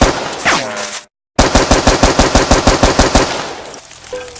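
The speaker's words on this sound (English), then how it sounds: "Gunshots!" A single loud shot and a brief silence, then a rapid, evenly spaced burst of machine gun fire, close and heavy, tapering off at the end.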